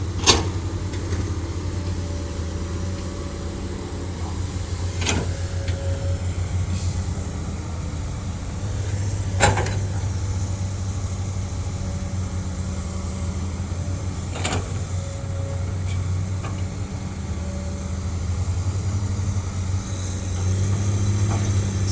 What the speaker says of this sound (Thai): เอกลักษณ์ของโคมาสูนี่เสียงจะกระหึ่มเลยนะครับพี่น้องครับ